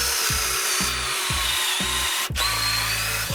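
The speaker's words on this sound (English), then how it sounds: "Now that the pocket holes are drilled" A power drill boring pocket holes into wood, with a steady loud whirr broken by several short bursts of low thumping as the bit bites, one after another, near and alone.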